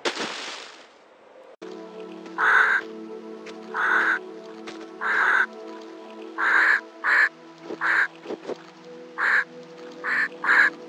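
Crow cawing repeatedly in Tomb Raider, a series of loud, harsh caws in an uneven rhythm over a steady ambient drone, starting after a brief rushing noise.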